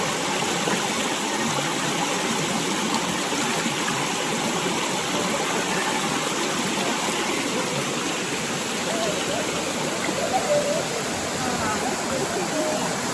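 Water pours continuously down a small waterfall on the Ord River, a steady, dense rushing that stays even and fairly loud for the whole stretch with no pauses.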